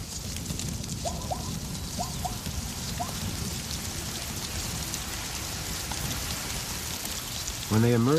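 Steady rain along the Linyanti River in Botswana's Chobe area, a dense, even hiss of drops on surfaces. Faint calls are heard in the background and a louder one comes near the end.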